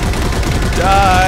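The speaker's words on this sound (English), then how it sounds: "I'm carrying a mounted turret." A mounted turret in the Halo 4 Spartan Ops game fires a loud, continuous stream of rapid shots in a short burst, with a brief voice-like tone rising at the end.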